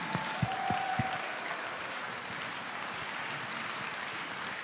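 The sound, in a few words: audience applause at music awards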